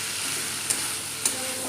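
Spiced masala for chana masala stir-fries in a pan with a loud, continuous sizzle and hiss. A spatula scrapes sharply twice over the frying.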